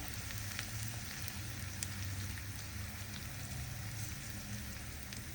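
Garlic and asafoetida fry in hot oil for a Maharashtrian masoor dal tadka, a steady, fairly quiet crackling sizzle with no talk.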